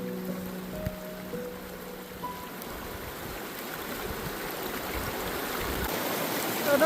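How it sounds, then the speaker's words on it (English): A mountain stream on Engineer Pass rushes and burbles steadily over rocks, a constant close wash of water with no one speaking. "I'm just enjoying the peace and the quiet of a mountain stream"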